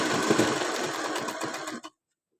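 A sewing machine stitches a picot edge on a saree fall, running in a fast, steady close-up whir before stopping abruptly.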